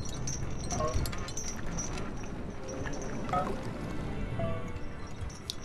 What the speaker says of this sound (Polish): O, woda się już wylewa.